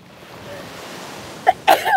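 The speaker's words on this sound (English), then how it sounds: "I knew I had a sneeze coming." One sudden, close sneeze bursts out of quiet room ambience near the end, with a short gasping intake just before it and a sharp, breathy release.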